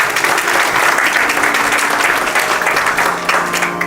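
Steady, dense audience applause at a saxophone and flute arangetram recital, loud and close, continuing without a break for the whole span.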